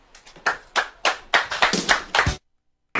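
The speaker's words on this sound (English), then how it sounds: "There was actual applause?" Applause from what sounds like a lone person after a baseball announcer quits on air, a run of about a dozen sharp, close hand claps in an uneven rhythm, ending abruptly in silence.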